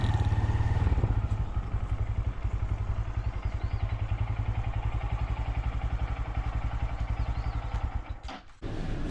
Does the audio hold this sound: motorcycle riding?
yes